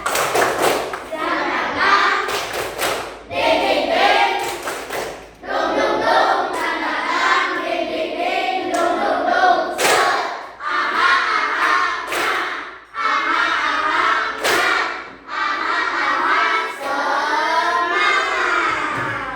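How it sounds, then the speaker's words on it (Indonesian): Students in a classroom perform a rhythmic spirit clap, chanting loudly together in bursts punctuated by sharp group claps and thumps in a patterned cheer. "Tepuk semangatnya. Tepuk semangat."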